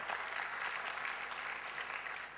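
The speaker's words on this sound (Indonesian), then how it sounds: "Berikan tepuk tangan buat Allah kita." A church congregation at a sermon claps together in a brief burst of steady, dense applause, moderately loud and unbroken throughout.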